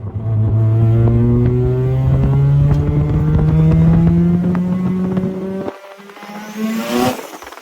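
A turbocharged 13B rotary engine in a Mazda RX-7 FD3S roars close by as it accelerates hard, pitch climbing steadily, then drops off briefly before a sharp rev and whoosh.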